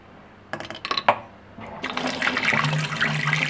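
A few clanks come first, then hot water from a descaled water heater rushes out in a strong, swelling gush that runs on loud and close to the end.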